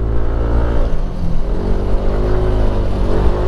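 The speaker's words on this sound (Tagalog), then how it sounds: "Pinamahan niya tayo makyat gamit yung motor Honda XR 150" Honda XR 150 motorcycle engine straining up a very steep road in Santol, La Union, a loud steady drone held close throughout with slight surges, no voices.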